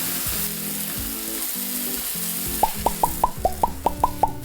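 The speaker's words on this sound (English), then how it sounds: "Now we can place the sausage on the mushrooms." Sausage cooks on top of mushrooms in a pan, giving a steady sizzle. Later a quick series of bright clinks or taps sits over the frying.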